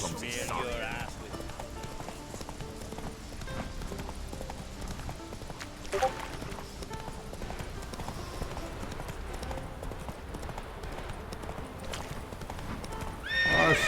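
Roach the horse in Witcher 3 gallops with a rapid clip-clop of hooves and an occasional whinny, mixed with game sounds and faint ambience, moderately distant and continuous.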